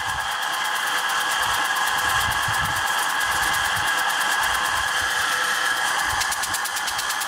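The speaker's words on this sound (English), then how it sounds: "Try and get the compressor to free up a bit by running it like this." An air compressor driven by a three-phase electric motor through a pulley runs steadily under the motor's continuous whine, with a fast rhythmic pulsing and a mechanical hum throughout; the system has an air leak.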